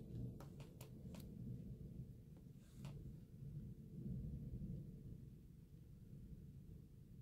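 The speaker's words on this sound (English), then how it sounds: "it's not even raining, it's just thundering." Distant thunder during a dry storm, a faint low rolling rumble that swells and fades over several seconds, with a few sharp clicks near the start and no talk.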